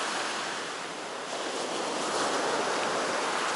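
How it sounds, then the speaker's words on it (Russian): Rough sea waves crash and roar in a continuous loud wash, with wind blowing across the surf and no voices. "Бурное такое, красивое море."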